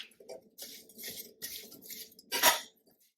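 Butter beans and kabocha squash are stirred in a pot, with soft scrapes and clinks in short bursts and one louder clatter near the end, close by with no talking.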